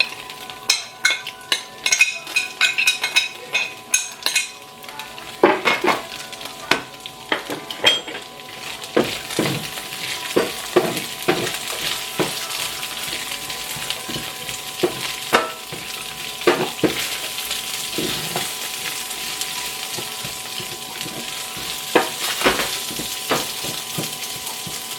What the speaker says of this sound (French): Et tu fais revenir les oignons jusqu'à ce qu'ils soient légèrement dorés, translucides, etc.